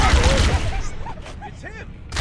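Gunfire in Halo: Combat Evolved on the Ring level: a brief burst of shots at the start, then fainter energy-weapon chirps and whines as the firing fades, with game voices talking over part of it.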